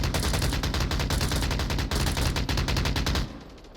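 Dense, continuous automatic gunfire crackles in the VR shooter Onward during a competitive match, rapid overlapping shots filling the space before cutting off and leaving a quieter tail.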